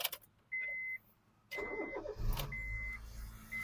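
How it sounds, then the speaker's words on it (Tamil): A Honda City car started with a key: short electronic chimes from the dash, then a brief starter crank and the engine catching into a low idle close by. "நமக்கு இதான் இந்த வண்டியோட கீ அப்படியே போட்டு வண்டி ஸ்டார்ட் பண்ணுற பாருங்க"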